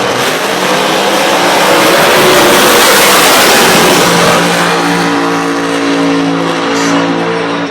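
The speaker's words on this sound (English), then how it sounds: "So the Aeroflow funny car, Dave." A funny car roars down the drag strip at the Winternationals drag race, a loud, sustained engine blast with rising pitch that fills the whole stretch, heard without talk.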